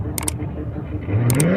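Jeep in a desert off-road race in Oman, engine rumbling steadily and rising into a louder rev near the end, with a few sharp clicks on top.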